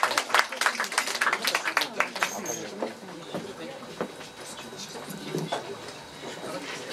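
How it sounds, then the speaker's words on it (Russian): Audience applause greets a young poetry performer at a spoken-word evening on the Arbat, a dense patter of clapping hands that swells at first and then gradually thins out, with some voices mixed in. "Под ваши аплодисменты. Это Мария Орлова. Встречайте"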